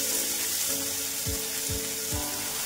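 Dill greens sautéing in oil with chili and garlic, a loud continuous sizzle with three soft low thuds of stirring in the second half, no talking.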